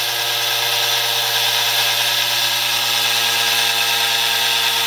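A small electric RC motor spins steadily at high speed, around 6,800 RPM, giving a loud, continuous whine with stable tonal hum throughout, no voices present.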